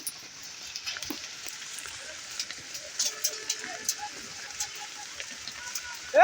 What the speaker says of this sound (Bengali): কত বড় বড় শিল পড়ছে।